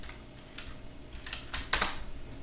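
A computer keyboard clicks as a command is entered into a terminal on a Raspberry Pi setup, with a short uneven run of close, crisp keystrokes that bunch into a quick flurry near the end.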